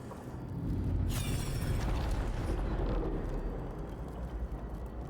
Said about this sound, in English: Flashbang. Come on with the flashbangs.